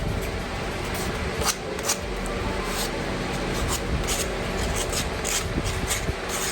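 A carved wooden decoy is smoothed with a cushion sander, giving a steady, close, broadband rasping hiss that runs unbroken for several seconds with small scuffing variations.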